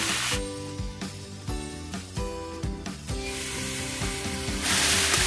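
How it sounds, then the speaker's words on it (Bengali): Potatoes fry in oil in a kadai, giving a steady hiss and sizzle. Loud background music plays over the frying throughout. "এবার কড়াইতে তেল দিয়ে আলুগুলো ভালো করে ভেজে নেব।"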